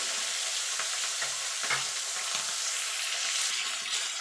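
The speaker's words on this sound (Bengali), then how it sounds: "মাছগুলোকে এপিট টপিক করে লাল লাল করে ভেজে নেবো" Rui fish pieces fry in hot oil, giving a steady broadband sizzle throughout with occasional soft low bumps as the pieces shift in the pan; no talking.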